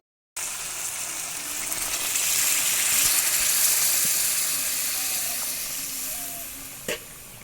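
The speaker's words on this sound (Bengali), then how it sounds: "জল দিয়ে দিচ্ছি কষা হয়ে গেছে এইবারে সিদ্ধ হওয়ার জন্য জল দিয়ে" Water poured onto sizzling chicken bhuna sets off a loud, rushing steam hiss that swells over several seconds and then slowly fades, with a soft knock near the end and no talking.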